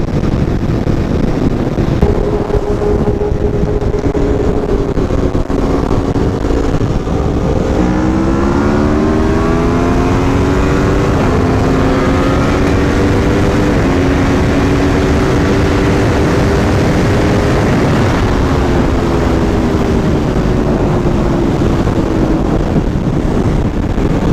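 Aprilia RSV4 and Tuono V4 1100 motorcycles in a roll race, a steady loud engine drone with rising and shifting harmonic tones as the bikes accelerate toward top speed around 170 mph, under constant wind roar.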